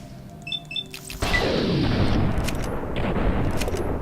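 A loud explosion in the post-apocalyptic role-playing game Fallout: New Vegas, a sudden heavy boom that rumbles and decays over several seconds, preceded by brief electronic game beeps.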